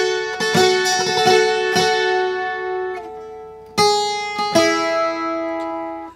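A requinto guitar plays the melody of a ballad, with bright plucked notes ringing out in short phrases and sustaining, close and clear with no voice.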